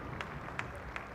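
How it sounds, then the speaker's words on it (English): Scattered applause from a cricket ground crowd at a women's T20 match, Surrey v Somerset, marking Surrey's 100 up; a soft, steady patter of distant clapping with a few sharper claps standing out. "applause around the ground for the 100"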